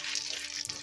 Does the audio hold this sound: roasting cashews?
yes